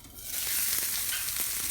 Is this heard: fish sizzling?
yes